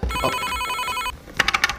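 A main landline telephone rings with a bright electronic ringtone for about a second and then stops, followed by a few sharp clattering knocks close by.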